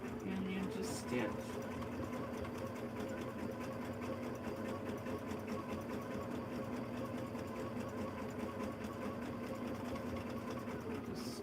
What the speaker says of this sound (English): And then just stitch.